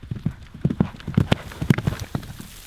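Hooves of a horse carrying a woman rider clip-clop in a quick, uneven rhythm, moderately close and fairly soft, with no talk over them.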